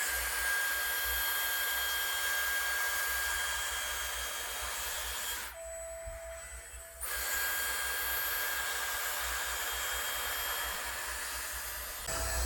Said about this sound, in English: I keep saying it's a blow dryer, guys. It's a blow dryer.